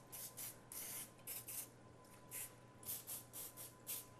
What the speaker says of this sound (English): We're just going to spray these with the cooking spray.